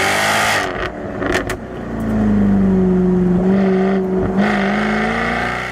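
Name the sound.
550 horsepower V8 car engine revving with baffles open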